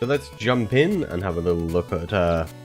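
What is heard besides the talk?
No everyday noise stands out behind the speech.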